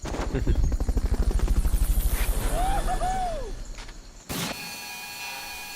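Fulton recovery helicopter rotor in Metal Gear Solid Peace Walker thumping rapidly and loudly, fading away as a mechanical whir sweeps past, then a sudden cut to a quieter electronic hum.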